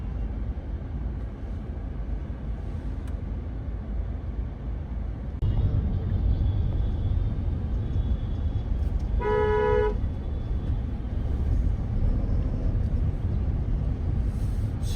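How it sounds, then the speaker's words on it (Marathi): Busy highway traffic between Thane and Mankoli, a steady loud rumble of vehicles with a short burst of car horn honking near the middle. "सगळीकडेच ट्रॅफिक झालंय."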